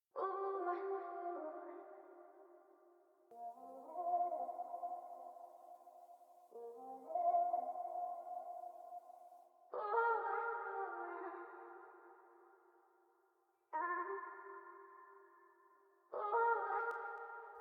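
Soft vocal ad-lib samples in an R&B soul production, airy sustained sung phrases drenched in echo and reverb, arriving in separate swells with gaps between, quiet and alone.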